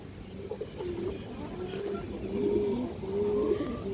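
Domestic pigeons, including a light-coloured khaki high-flyer, coo in low repeated rolling calls close by, steady throughout under a faint background hum.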